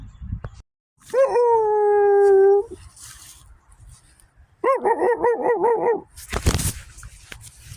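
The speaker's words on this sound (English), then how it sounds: "It's that dog that was yipping." A dog yips and howls outdoors at a campsite, one long drawn-out whine followed by a burst of rapid wavering yelps, close and loud with quiet gaps between.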